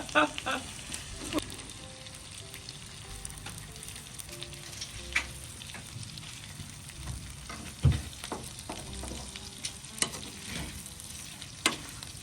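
Seasoned shrimp cooking with butter in a pot, a soft continuous sizzle with occasional sharp taps and scrapes of a utensil stirring, quiet and close with no talking.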